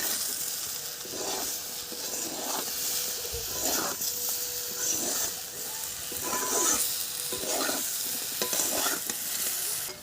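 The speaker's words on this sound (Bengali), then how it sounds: "কলা ভাজা হয়ে এসছে" Slices of raw green banana fry in a pan, producing a constant sizzle with repeated scraping stirs every second or two, close and moderately loud, without speech.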